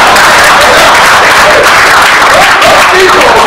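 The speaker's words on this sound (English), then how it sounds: "Can we give Christina a clap?" Audience applause at a talk, a dense burst of clapping from a crowd, loud and close, filling the whole moment.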